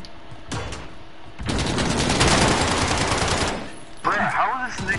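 Video game gunfire, a sustained burst of rapid automatic shots that swells loud in the middle, then tails off, with a voice talking over the end.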